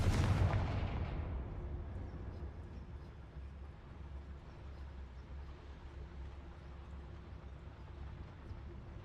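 A Confringo blasting spell explodes in the Hogwarts Legacy video game, a loud booming burst at the start that decays into a long low rumble and lingering ambient hum.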